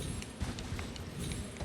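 Horse hooves clip-clop in Elden Ring: a quick, steady run of soft hoofbeats, faint and low against a muffled background.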